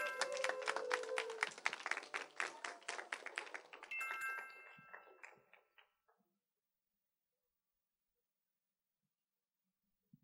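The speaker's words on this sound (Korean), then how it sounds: "큰 박수로 우리 친구들 환영해 주세요" A school audience at a mock trial competition applauds a high school student team, a burst of crowd clapping that carries for several seconds, then thins and fades out into silence.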